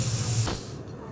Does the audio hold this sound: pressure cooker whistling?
yes